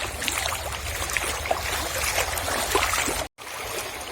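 River water rushes steadily through a village between the houses, giving a constant broadband wash that stays close and fairly loud. A brief dropout cuts in near the end.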